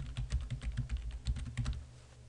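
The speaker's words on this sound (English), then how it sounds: "we're just going to type a URL in here" Quick, light keystrokes on a computer keyboard as a URL is typed, a steady run of soft clicks close by with no voices.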